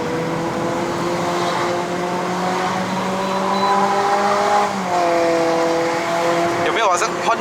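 A 2015 Toyota Corolla Altis 2.0V with a CVT accelerates hard up a mountain road. Its engine drone climbs in pitch, then drops back in a stepped shift before rising again, all under steady road noise.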